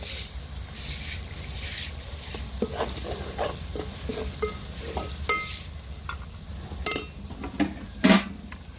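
Chili powder is added to a frying pan and stirred, with continuous sizzling under repeated scraping and clinking of a utensil against the pan, growing sharper toward the end.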